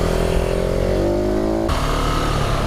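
A 2019 KTM 690 SMC R supermoto engine drones loudly and close, its pitch sliding lower through a gear change before holding a steady rumble.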